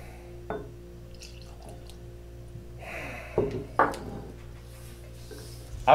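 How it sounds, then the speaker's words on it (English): Rice whiskey poured into a glass, quiet and close, with a few soft splashes and drips clustered in the second half among faint handling noises. "I am gonna give this one a pour out."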